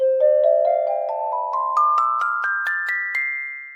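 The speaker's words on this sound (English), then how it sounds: "And there you have Impact Soundworks Handbells, which also includes hand chimes." Impact Soundworks Handbells, a virtual handbell instrument for Kontakt, plays a clear ascending scale of bright, ringing bell strikes, each note struck evenly and left to decay, ending in a soft fading tail.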